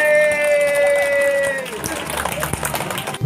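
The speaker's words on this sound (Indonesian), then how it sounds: "Oke, tepuk tangan." A school audience at an RA Darussalam event breaks into loud crowd noise with clapping and cheering, following a sustained held tone that fades out; the crowd sound is dense and close.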